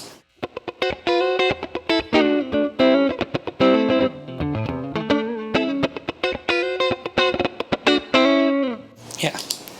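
Distorted electric guitar through a NUX drive pedal without a cabinet IR plays a quick, choppy riff of chords and single notes, dry and buzzy with a harsh, fizzy edge.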